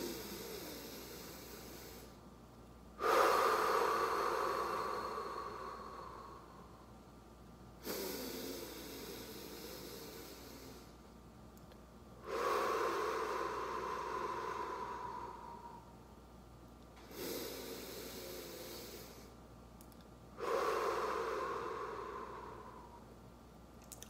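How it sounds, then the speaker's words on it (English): Slow, deep nasal breaths during a guided group breathing moment, five long inhales each swelling and fading over several seconds, close and soft with quiet pauses between, no talking. "be the love for 3 breaths. In through the nose."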